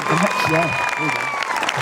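At a high school graduation ceremony, the audience applauds the teachers, with steady clapping under a voice speaking over it.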